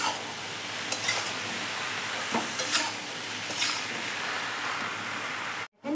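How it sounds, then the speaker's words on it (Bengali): Wild mushrooms with turmeric and salt fry in a pan, giving a continuous hissing sizzle broken by a few scraping stirs before a brief cutoff. "ছতুটা হলুদ লবণ দিয়ে ভালো করে ভেজে নেব"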